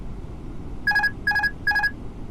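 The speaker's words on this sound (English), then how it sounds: "Autopilot off." Airbus A321neo autopilot disconnect alert in Microsoft Flight Simulator, three quick repeated electronic chime bursts over a low cockpit hum, clear and evenly spaced.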